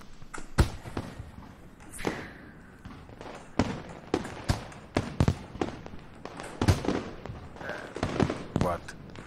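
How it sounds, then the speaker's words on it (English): Fireworks explode in the Katawa Shoujo visual novel as a string of irregular sharp pops and booms with crackling tails, heard under people talking. "Fireworks."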